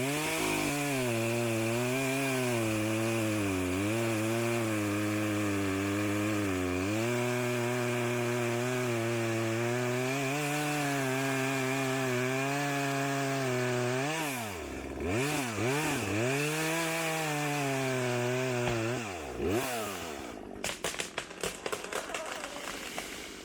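Chainsaw cutting into a birch tree lying on the ground, a loud steady engine drone close by that dips and surges as it bites, then sputters and breaks up near the end.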